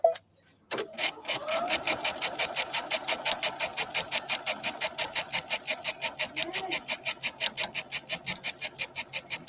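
A sewing machine stitches a straight line-quilting row through fabric, its needle hammering in a fast, steady rhythmic pulse after a brief start, close and alone without talk.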